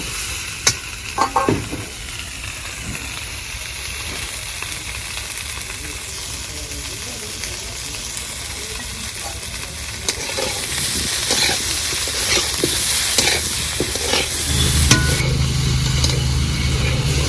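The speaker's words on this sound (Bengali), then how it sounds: "ফুলকপি আলু তো ভালো করে ভেজে নিয়েছি" Cauliflower and potatoes sizzle steadily in a hot pan with frying oil, a continuous crackling hiss with occasional stirring scrapes, close and fairly loud throughout.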